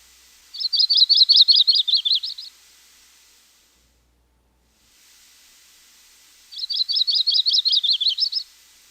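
A male Audubon's warbler sings two bright trilled phrases of rapid repeated notes, separated by a short silence, close and clear over faint background hiss.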